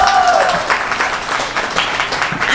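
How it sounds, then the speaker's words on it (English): Wedding guests applaud the bride and groom, a lively, fairly close burst of clapping with faint chatter and a brief tonal sound near the start. "So a round of applause for our bride and groom."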